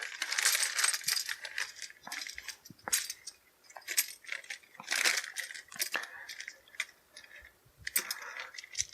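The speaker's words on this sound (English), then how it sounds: "we'll just dump the bases in there with them" Plastic miniature bases from the Doom board game dumped into a foam tray, a rapid scatter of hard clicks and clatters in bursts, close and crisp, with quieter rattles between.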